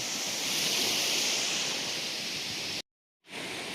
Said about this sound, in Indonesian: Ombaknya cukup santai, cukup damai, cukup tenang.